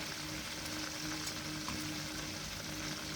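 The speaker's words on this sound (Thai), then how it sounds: "ทอดแบบนี้นะคะไว้เรื่อยๆนะคะ" Food deep-frying in hot oil, cooked a little at a time, gives a steady, dense crackling sizzle that runs unbroken and fairly close throughout, with no voices over it.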